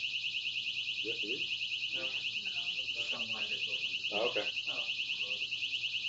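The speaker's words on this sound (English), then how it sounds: "That was a fire alarm." A fire alarm sounds continuously through a presentation room, a steady high, rapidly pulsing electronic tone that carries on unbroken while people talk briefly over it.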